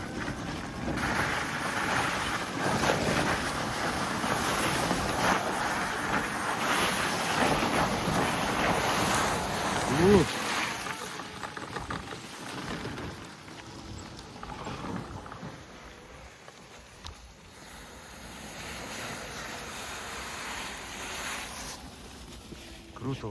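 An Optimus 2 off-road vehicle drives through a swamp of melting snow, its engine roaring and revving steadily under loud wind buffeting, while people talk over the noise.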